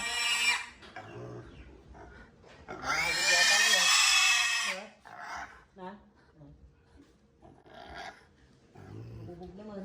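Piglets about two months old squeal loudly during castration on a farm, one long piercing squeal dominating mid-clip amid shorter grunts and cries, with people talking nearby.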